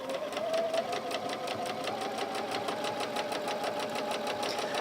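A sewing machine chain-pieces quilt squares for a Fernshaw quilt, running continuously at an even, rapid stitching pulse, close and alone throughout.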